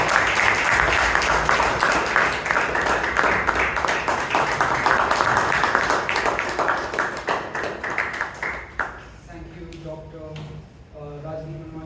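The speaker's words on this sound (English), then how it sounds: "So please give her a big round of applause." Audience applause at a Toastmasters meeting, a sustained round of clapping that gradually tapers off, then a voice begins speaking as the applause dies away.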